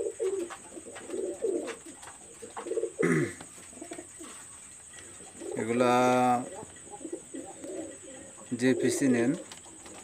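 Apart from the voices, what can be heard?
Lalpari pigeons cooing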